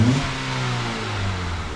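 Revving Ford Fusion 2.5L car engine, a loud steady roar with pitch shifting as the throttle is held for under two seconds, no voices over it.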